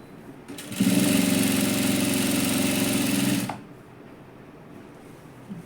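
A sewing machine running a continuous line of stitching along the side seam of a cut-side dress, a steady rapid whir that starts abruptly, holds for about three seconds, then stops.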